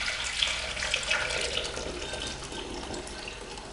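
Liquid splashes and trickles steadily into a bowl, a continuous close pouring sound without talk.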